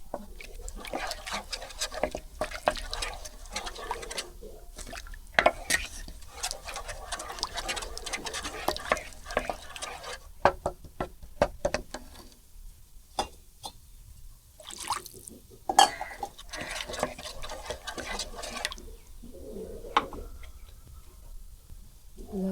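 A utensil scrapes and taps repeatedly against a pan of egg gravy while liquid sloshes, a continuous irregular clatter of stirring with brief pauses.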